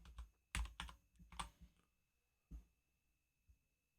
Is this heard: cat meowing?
no